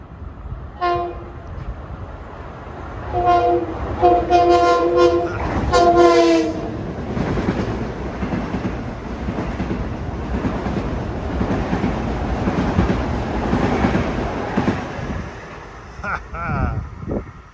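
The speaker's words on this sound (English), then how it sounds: "Train 1663, Huntington to Grand Central with the Flying Yankee" LIRR train 1663, Huntington to Grand Central with the Flying Yankee, passes Woodside station during the evening rush, sounding a series of loud horn blasts before its cars rumble past steadily under wind noise.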